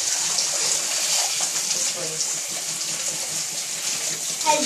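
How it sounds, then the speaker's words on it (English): A tap runs steadily into a bath for a raccoon, a constant loud rushing hiss of water that barely changes from start to finish. "I have to keep on adjusting the water."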